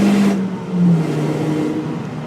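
A Citroën DS3 R rally car with a turbocharged engine lapping the Nürburgring Nordschleife, its engine droning loud and steady from on board with a slight shift in pitch as it holds speed.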